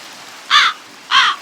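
Two loud, close caws from a crow in the Minecraft Create modpack, evenly spaced about half a second apart against a quiet background.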